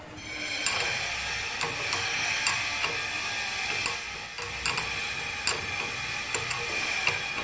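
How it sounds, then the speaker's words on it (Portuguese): A new nut threads onto a Toyota Hilux shock absorber, giving small metallic ticks and ratchet-like clicks at irregular intervals over a steady mechanical hum. "A porca precisa ser rosqueada até uma certa altura."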